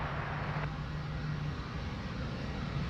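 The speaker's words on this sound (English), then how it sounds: "717 coming up taxiway Charlie." A Qantas Boeing 717 taxiing at Sydney Airport gives a steady, moderately loud engine rumble with a whining hum, heard alone without talk.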